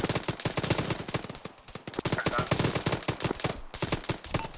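Gunfire in the Arma 3 military game on the Malden map, a dense run of rapid sharp shots and automatic bursts, loud and close, repeating almost without pause.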